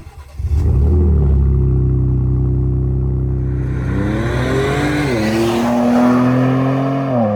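A loud Ford Ranger Raptor pickup truck engine roars up from idle and revs, its deep exhaust note rising and falling, close by with no talking.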